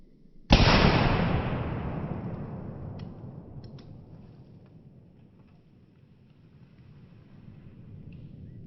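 A single revolver gunshot fired at a wall, one sharp loud blast followed by a long rumbling decay, then quiet background wind.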